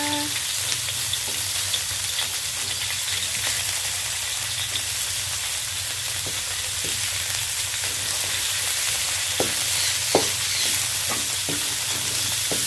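Minced lean pork stir-frying in a hot pan, a steady dense sizzle running throughout with scattered scraping clicks from stirring, close and fairly loud, no voices.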